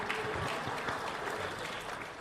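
An audience claps steadily for Fadli Zon at a book launch event, a dense, even wash of hand claps sustained throughout without any break.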